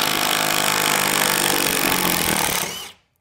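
A Milwaukee M12 Fuel 3/8 stubby impact wrench on speed 3 backs out a lag bolt from wood: a loud, continuous rattling hammer-buzz held for nearly three seconds, then cutting off abruptly.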